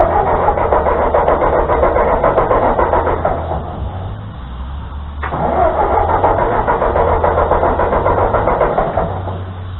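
A 1945 Ford 2N tractor engine cranks and catches, running loudly up close with a steady mid-pitched drone, briefly dropping off for a second before picking back up and running on.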